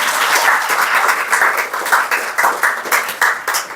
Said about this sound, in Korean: 박수 한번 해봐요, 이럴 때.